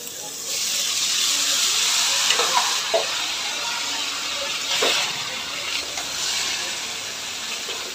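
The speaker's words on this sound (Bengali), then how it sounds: "ভালো করে নেড়ে চড়ে দিয়ে দেবো সেই আলু কুচি।" Chopped potatoes fry in a pan with a constant, close sizzling hiss, punctuated by several scraping stirs of a spatula in the middle stretch.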